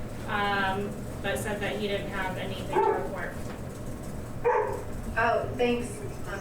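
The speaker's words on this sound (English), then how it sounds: "sorry about my dog there" A pet dog barks and yips intermittently during an online municipal sustainability commission meeting, heard in the background under steady talking from meeting participants.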